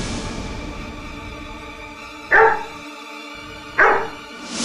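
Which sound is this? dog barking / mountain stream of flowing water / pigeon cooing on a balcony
dog barking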